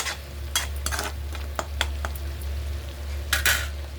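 Paneer fries in oil in a pan, a soft low sizzle broken by several sharp scraping clinks of a spoon or spatula against the metal, with a steady low hum underneath.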